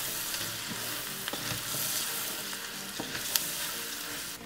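Flour frying and being stirred in a hot pan over medium heat, a steady close sizzle with scraping stir strokes and occasional sharp clicks of the utensil, no talking.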